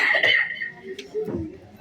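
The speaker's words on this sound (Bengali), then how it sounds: "আমি দুঃখিত, মানে আমি কাশতেছি" A man coughs a couple of times, harsh bursts close to the microphone, with a tonal voice-like sound in between.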